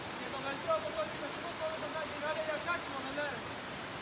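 Rushing floodwater pouring down a flooded street, a steady broad roar of flowing water with voices talking and exclaiming over it throughout.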